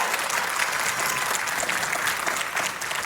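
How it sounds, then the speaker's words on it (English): A round of applause from an audience at a church talk on divorce: dense, continuous clapping that holds steady and full throughout, with no voices over it. "she deserves a round of applause even again"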